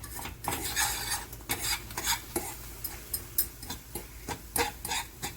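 A fork mixing eggs with chorizo in a pan, with repeated scraping clinks of metal on the pan in an irregular rhythm over a light sizzle, close, with no talking.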